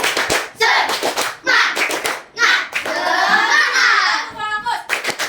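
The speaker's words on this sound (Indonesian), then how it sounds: "Tepuk semangat." Combined fourth- and fifth-grade children in an Indonesian classroom perform a rhythmic spirit clap, bursts of unison hand claps in a patterned beat alternating with their chanting voices, close and lively.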